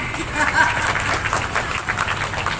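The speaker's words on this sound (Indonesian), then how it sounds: "Tepuk tangan." A street theatre audience claps for a woman who volunteered as an actor, dense, steady applause filling the space with crowd murmur and some talking mixed in.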